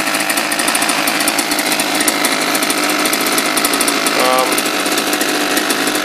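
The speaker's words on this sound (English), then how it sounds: "you can hear the engine running pretty nice there" A small engine runs steadily at close range, a loud, even buzzing drone with no pauses.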